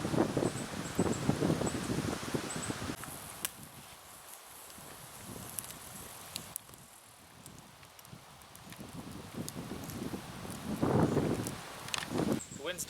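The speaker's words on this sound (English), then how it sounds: "wind's dying down a little bit" Wind gusts rush and buffet the microphone at a wilderness lakeshore camp in Temagami, loud at the start, easing through the middle and swelling again near the end, with rustling nearby.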